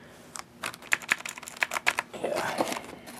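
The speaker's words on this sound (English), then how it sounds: "just listen to those keys" Keys clatter on a Corsair K95 mechanical keyboard, a string of sharp, uneven clicks at close range, with a voice murmuring briefly near the end.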